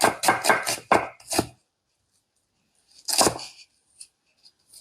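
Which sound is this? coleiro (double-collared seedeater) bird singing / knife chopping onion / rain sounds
knife chopping onion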